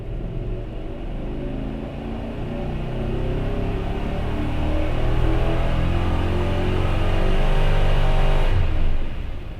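A GM Gen IV Yukon engine revs during a tuning pull, a loud close rumble that climbs steadily in pitch and intensity before dropping off abruptly at the end.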